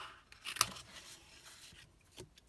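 Scissors cut through paper for a crafting card project, a few quiet snipping and rustling strokes with one sharper snip near the start and another faint cut near the end, heard alone.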